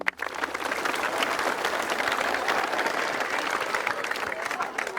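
An audience claps loudly for a child, a dense, continuous burst of applause sustained for about five seconds at close range.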